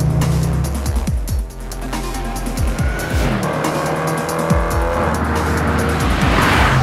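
A 542 bhp Range Rover Sport SVR corners hard on the Nürburgring, its engine roaring loudly with gear changes and a sustained tire squeal through the turn, close and continuous with no talk.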